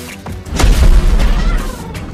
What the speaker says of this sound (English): put him in the cannon and launch him away